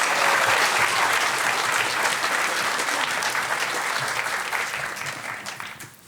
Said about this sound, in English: Let's give Josh one more round of applause, please.